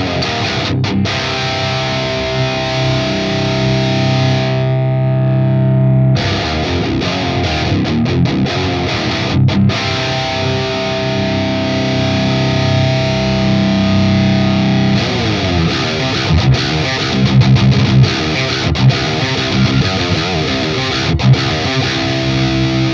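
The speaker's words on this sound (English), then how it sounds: "it sounds different whether you've got gain 1 cranked or gain 2 cranked with the pull gain control back to noon" Electric guitar played through a Fortin Nameless Suite amp simulator with the gain cranked, giving a loud, continuous, heavily distorted tone of chugging riffs and sustained chords with brief pauses, no voices.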